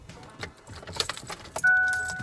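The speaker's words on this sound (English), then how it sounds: "I need to get my keys." Keys jangling close by inside a truck, a burst of metallic rattles and clinks, followed by a steady tone that rises near the end.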